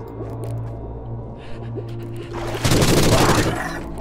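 A barrel explodes in the first-person shooter Forgive Me Father, a sudden loud burst that follows low game rumble and fades out within about a second.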